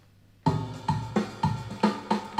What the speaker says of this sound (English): I'll take a 7/4 Afro-Cuban drum loop